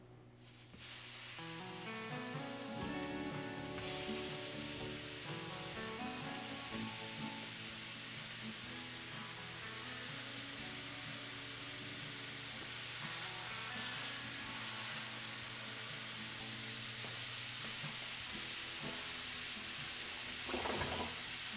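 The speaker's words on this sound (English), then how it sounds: "Let's get them sizzling." Burger patties sizzle loudly and steadily in a hot, dry skillet, a dense continuous frying hiss that stays strong and even from start to finish with no talking.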